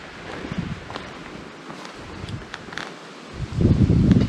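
Wind gusts across a mountain trail on Mt Passaconaway with a rough, blustery rush and microphone buffeting, building louder toward the end, along with faint rustling.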